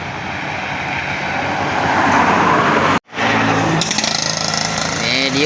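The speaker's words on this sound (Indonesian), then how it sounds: "Medium bus." ALS medium bus driving on a winding mountain road between Bukittinggi and Padang Panjang, its engine and road noise loud and close, briefly cutting out midway before resuming with rattles and faint horn-like tones.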